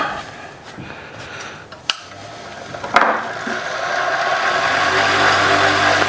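A big mop buffing wheel on a polishing machine, used on a resin and wood ring, spins up with a couple of sharp clicks, then settles into a steady, fairly loud motor whir that builds and holds.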